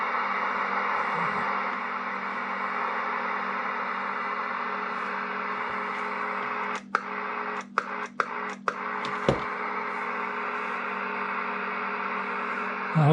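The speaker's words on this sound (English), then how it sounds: "Now that static noise you hear is just ground noise." Steady hiss of ground-noise static from a CB radio with its squelch opened all the way, a constant even hum that drops out briefly for a few clicks midway, with no voices.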